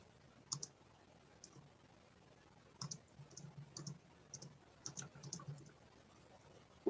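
Irregular bursts of keyboard key clicks, sometimes in quick clusters, typed close by with pauses between, in a quiet room.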